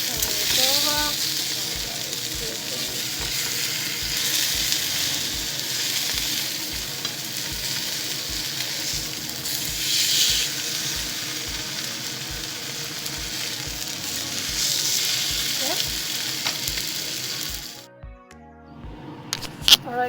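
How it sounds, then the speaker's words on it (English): Tofu grilling in a pan for a tofu spinach curry, giving a steady, loud sizzle and crackle with faint stirring scrapes that carries on for most of the time, then cuts out near the end. "on the other side we have grilled the tofu"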